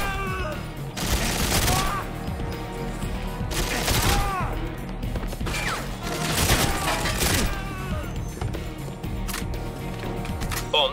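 Bursts of automatic gunfire rattle in repeated volleys in 007 GoldenEye Reloaded, loud and close, with shouted voices mixed in between the shots.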